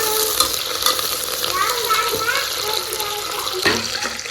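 Curry leaves, green chili and coriander sautéing in a pan, a steady sizzle with stirring scrapes close by and a brief clatter near the end.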